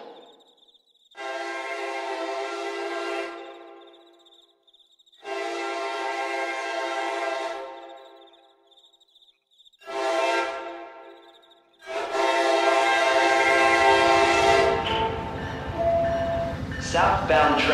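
Passenger trains in the Rail Sim Universe game pass a Deerfield Beach station, horns sounding in long loud blasts repeated several times, followed by the rumble of cars rolling by; a station announcement voice is heard between them.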